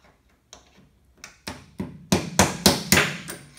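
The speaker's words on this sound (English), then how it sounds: "I am going to pop that bottom bearing out of there so I can show you what we're talking about here." A bottom bearing is hammered out of a riding lawn mower blade spindle, with faint taps building to a series of sharp metallic knocks, about eight in all.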